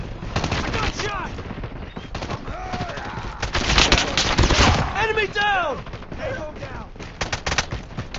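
Rapid gunfire from an FR .556 rifle in a first-person shooter, bursts of shots crackling through a busy mix of game effects and voices, loud and close with brief pauses between volleys.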